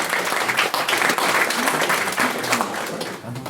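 Full-room audience applause for speakers at a university debating society, dense and steady from the start, then tapering off toward the end, with faint voices underneath.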